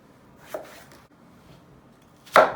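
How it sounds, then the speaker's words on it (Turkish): Onions for a meatless eggplant dish are cut with a knife on a board: two distinct, crisp chops a couple of seconds apart, close by, with quiet in between. "Hemen soğanlarını doğruyoruz."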